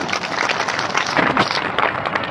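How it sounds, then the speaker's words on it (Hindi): Religious gathering audience applauding loudly for those who received initiation, a dense, continuous patter of many hands clapping with a slight swell in the middle. "जो दीक्षा प्राप्त किए उनके लिए जोर से तालियां होना चाहिए"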